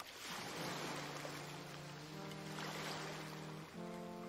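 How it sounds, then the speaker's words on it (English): Ocean surf washes continuously through a music track, a broad steady roar of waves under sustained tonal notes that shift near the end. "It's the ocean. Oh. I hear it."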